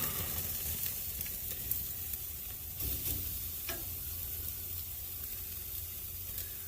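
Strip steak sizzling on a hot indoor grill just after being flipped, a steady crackling hiss with scattered pops and light scraping, fairly quiet and close with no talking.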